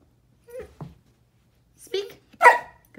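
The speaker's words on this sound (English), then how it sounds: "Speak. Woof." A dog barks in short bursts on command during a home trick session, with several quick woofs spread across a few seconds and brief human voices between them.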